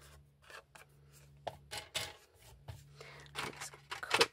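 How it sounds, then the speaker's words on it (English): A craft blade trims a section off a paper card for a gents birthday card, making soft, close scraping and cutting strokes in short bursts, faint and dry. "I may just trim another little section off here"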